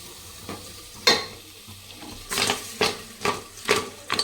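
A pot of goat leg curry is shaken by hand to mix, giving a series of sloshing, scraping knocks that come louder and closer together toward the end, with no talk.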